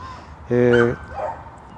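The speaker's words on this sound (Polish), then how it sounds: "Ten hałas to troszeczkę jest tutaj, ale cóż, pieski mają swoje prawa i rozmawiają po swojemu" A single dog barks in a short harmonic burst near the middle, set against a quiet outdoor background with another dog answering faintly further off.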